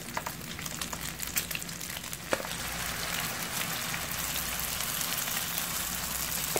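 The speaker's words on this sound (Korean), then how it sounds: "프라이팬에 식용유를 두르고 이제 이렇게 펴서 부쳐주시면 돼요" Thin egg dumpling batter spread in an oiled frying pan, frying with a steady crackling sizzle like light rain that runs close and even throughout, with a few sharper pops early on.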